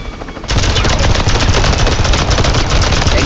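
Loud, dense gunfire in the video game Worms W.M.D, a sustained rapid barrage that kicks in abruptly after a brief quieter lead-in and continues steadily without pause.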